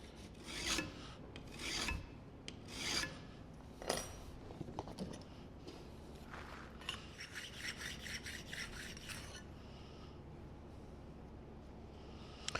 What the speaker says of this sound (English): So I did end up going back and hitting it with a file.